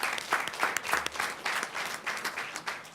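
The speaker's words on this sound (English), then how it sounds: "let's give them all a round of applause" An audience at a school board meeting gives a round of applause, with lively, uneven clapping that rises and falls in small surges for a few seconds.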